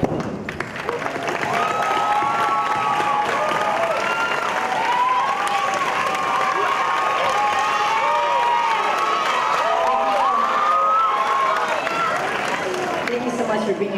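A graduation audience applauds teachers and staff with steady, dense clapping and cheering, a crowd noise that holds at full volume throughout with voices mixed in.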